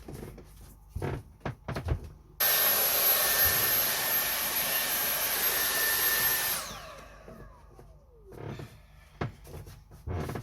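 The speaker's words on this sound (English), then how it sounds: "Right, give that a hoover." Vacuum cleaner hoovering up sanding dust inside a narrowboat, switching on abruptly with a loud steady roar for about four seconds, then winding down with a falling whine, framed by quiet knocks and handling noises.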